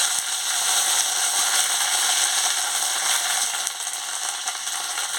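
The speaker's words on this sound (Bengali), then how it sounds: "দিয়ে ভালো করে ভেজে নিচ্ছি।" Ginger paste, bay leaf and dried chili frying in hot oil, a dense, bright, steady sizzle crackling close up and unbroken for several seconds, with no voices over it.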